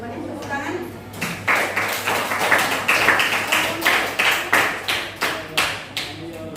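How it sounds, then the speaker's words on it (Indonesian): Classroom of students clapping, starting sparse then building into a loud, fairly rhythmic round of applause from a small group, close by and continuing to the end. "Tepuk tangan."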